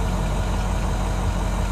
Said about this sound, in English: Just let the truck idle.